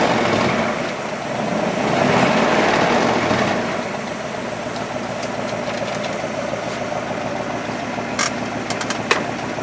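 A 1964 Plymouth Barracuda with a Hurst shifter, its engine running with a steady rumbling drone that swells briefly early on and then settles to an even idle-like roar, heard up close with no talking.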